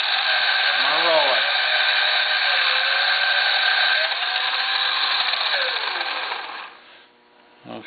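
A V-tool carving chisel grinds on a powered sharpener, giving a loud, steady, high whine that holds for several seconds before the machine spins down near the end.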